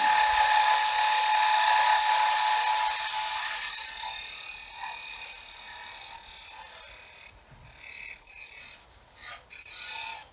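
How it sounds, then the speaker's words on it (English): A gouge cuts a slant toward a tenon on a spinning piece of wood on a lathe, a loud, steady high whine that fades after a few seconds into softer, intermittent scraping. "I'm just going to cut on a slant, so when I go in this way, it's cutting the slant"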